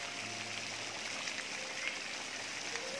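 Water splashing steadily from a fountain in the Saheliyon ki Bari garden in Udaipur, Rajasthan, a continuous close rushing wash with no pauses.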